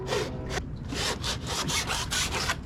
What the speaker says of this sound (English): So why do you have to sand that down, Dave?